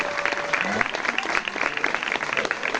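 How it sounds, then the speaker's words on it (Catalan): Applause for the cooks at a neighborhood summer festival by a hermitage, with the crowd clapping steadily and fairly close for a few seconds while a faint voice passes underneath. "un aplaudiment als cuiners perquè l'arròs ha estat boníssim"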